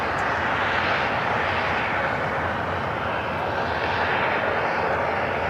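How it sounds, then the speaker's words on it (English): Fixed-wing airplane taking off from the south side at LAX airport, a loud, steady broadband engine roar that holds constant throughout with no break, no voices heard. "Next takeoff here on the south side."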